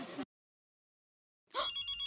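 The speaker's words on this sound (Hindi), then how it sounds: "फोन आया है।" A telephone rings indoors, a short burst cut off, then after a second of silence another bright electronic ring starts and continues, loud and close.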